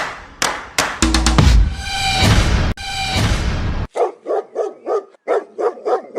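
Cartoon dogs bark in a comedy animation, a quick run of loud, sharp yaps and barks in bursts, followed by a steady rhythmic series of repeated barks close up with no talk over them.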